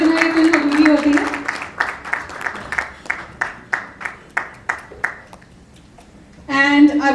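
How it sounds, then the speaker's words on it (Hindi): An audience at the poster launch of the film Dehati Disco claps in a steady, rhythmic beat that gradually fades out. Amplified speech over a microphone comes just before the clapping and again right after it. "प्लीज तालियों में कमी ना रखें"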